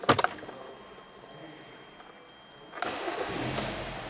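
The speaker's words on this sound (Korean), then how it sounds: "시동을 한번 걸어 보도록 하겠습니다" A Hyundai YF Sonata engine cranks briefly from cold, then catches within a second and settles into a steady idle hum around 1000 RPM, heard up close with no talking.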